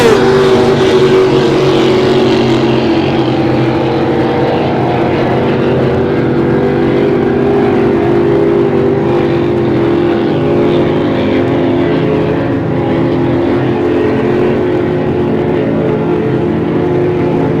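Pro Stock racing motorboats roar continuously and loudly in a race final, a dense, unbroken engine drone across open water.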